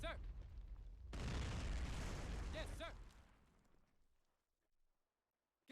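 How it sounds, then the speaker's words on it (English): Artillery barrage in a WW1 real-time strategy game set in Belleau Wood trench warfare: a loud, sustained rumbling blast lasting a couple of seconds, then fading out, with brief voice fragments in between. "We can call in even more if we want, even more artillery support."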